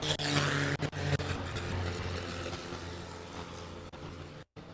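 Race cars roaring past at a FASCAR event at New Smyrna, a dense, loud engine drone filling the whole stretch with brief dips, no voices over it.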